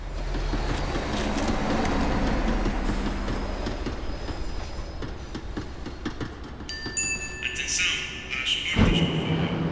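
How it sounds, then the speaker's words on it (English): A tram in Max Payne 3 rumbles on its rails, steady clickety-clack and a low hum gradually easing as it slows, with squealing metallic tones and a thud near the end. "The tram was slowing down, and I'd only just gotten on board."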